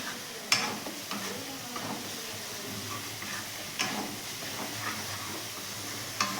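Ground turmeric, cumin and Kashmiri chilli powder frying in a pan for a Bengali rui fish kalia, a soft steady sizzle under occasional light scrapes and clinks of a spoon stirring the spices.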